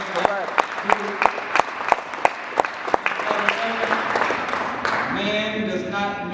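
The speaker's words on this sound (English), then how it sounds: "Let's give them a round of applause" Audience applause at an event for the MANUP group, with loud individual claps standing out early, overlapping voices and cheering, and the clapping thinning out toward the end.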